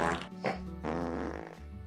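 Comic fart sound effect in a sci-fi audio drama, a short loud buzzing blat that briefly breaks off and resumes, heard up close on its own.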